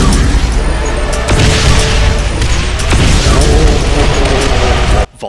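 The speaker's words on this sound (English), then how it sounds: "Volleys of rockets" Relentless barrage of rocket fire from a Cyberdemon in a Doom mod, dense booms and bursts overlapping continuously at close range before cutting off abruptly near the end.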